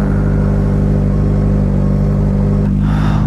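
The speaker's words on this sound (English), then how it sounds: "Right here behind this trash truck right now, just chilling." A garbage truck engine idles close by in a deep, steady rumble. Near the end the pitch rises briefly, as if the engine revs or a hydraulic system kicks in.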